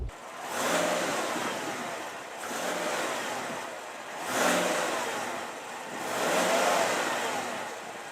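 A 2021 Chevrolet Silverado Z71 Trail Boss 6.2-liter V8 rumbling through its exhaust after starting, swelling in four gentle revs that rise and settle, moderately close and fairly soft, with no talking.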